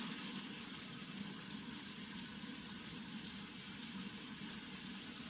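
Water runs steadily from a tap during face washing, a faint, even hiss that continues unchanged throughout.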